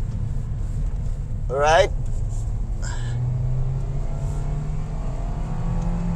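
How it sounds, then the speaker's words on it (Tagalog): 2025 Toyota Veloz accelerating at full throttle on twisting roads, a steady engine drone under cabin noise while a person speaks briefly and a rising whoop-like sound sweeps up between. "Full throttle."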